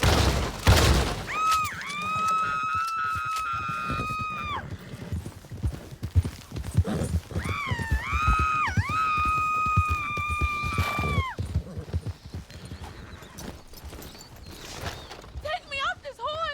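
Horse hooves clop steadily throughout in the video game Red Dead Redemption 2, with high, wavering whinny-like tones over them and voices talking in the background.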